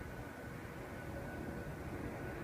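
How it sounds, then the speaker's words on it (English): Steady broadband rumble of an airplane passing overhead, a continuous low drone holding at even loudness throughout with no speech. "there's a plane going overhead"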